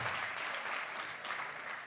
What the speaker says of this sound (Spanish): Un fuerte aplauso para la delegación que viene